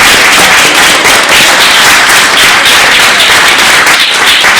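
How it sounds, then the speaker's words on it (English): A church forum audience breaks into loud, dense applause at the end of the session, a steady wash of many hands clapping close by with no pause. "Let's give Nichole a round of applause."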